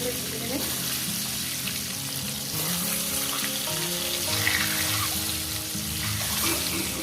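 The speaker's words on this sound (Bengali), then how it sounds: "একটু ডিমগুলো ভাজবো একটু কিন্তু গোড়া দেবেন না" Eggs fry in hot oil with a little turmeric in a pan for Bengali egg curry, giving a steady, close sizzle and crackle throughout while a voice talks over it.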